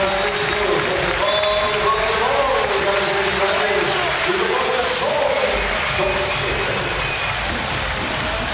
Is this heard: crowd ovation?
yes